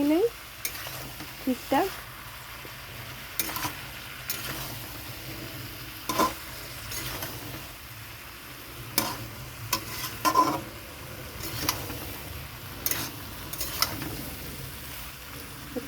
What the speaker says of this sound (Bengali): কষাতে কষাতে ভাজাও হয়ে যাবে